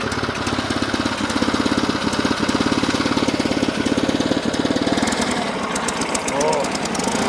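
A small engine with a clutch safety and one weak, leaky cylinder starts and runs with a rapid, rough, close chugging rattle that keeps a steady uneven pulse.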